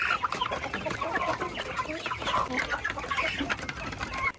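A flock of champion-line Rhode Island Red chickens clucks and cackles continuously in a busy, overlapping chorus, close and fairly loud.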